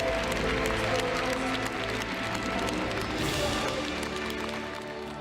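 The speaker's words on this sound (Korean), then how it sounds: "박수 하나님께 드리겠습니다." A church congregation claps together after a closing prayer at a Korean revival meeting, a dense, continuous wash of hand claps that fades slightly near the end, with low organ or music tones under it.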